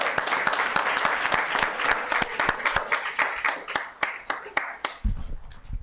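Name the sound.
audience applause at a town council meeting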